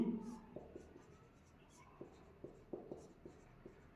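Pen writing on paper while working a class 10 algebra problem, with faint scratchy strokes in short bursts under a man's ongoing speech.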